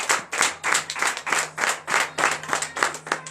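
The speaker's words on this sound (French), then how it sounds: "Donc je vous demande d'applaudir très fort." A church congregation at a morning prayer service claps loudly in rhythm, sharp synchronized bursts of hand claps repeating at a steady beat with a faint hum underneath.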